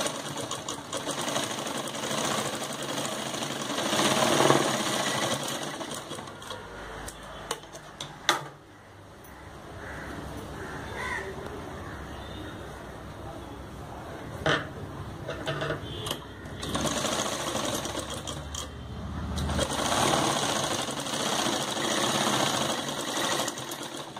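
Domestic sewing machine stitching a fabric side seam for a garment body, running in fast rattling bursts with brief pauses and clicks between runs, close and fairly loud, with no talk.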